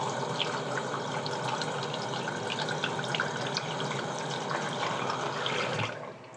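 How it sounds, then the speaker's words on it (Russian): Tap water runs steadily as makeup brushes are rinsed under it, a continuous close splashing wash that holds for several seconds before easing off at the end. "Это опять-таки плоско промываю."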